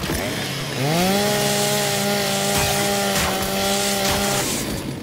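A Lancer chainsaw bayonet revs up in the Gears 5 video game, a loud steady mechanical buzz that rises sharply about a second in and holds for several seconds before cutting off.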